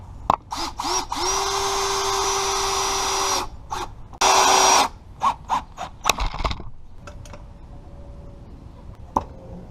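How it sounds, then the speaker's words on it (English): A power drill whines in several bursts while pre-drilling holes in wood, spinning up to a steady high pitch and stopping, with a louder rougher burst and a few clicks and knocks between. "I recommend pre-drilling all your holes."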